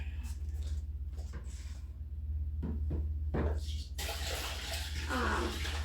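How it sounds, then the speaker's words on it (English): Hot water runs from a kitchen tap in a house, beginning as a steady gush after a few clicks and knocks, with a constant low electrical hum underneath. "And I gotta get some clean hot water real quick."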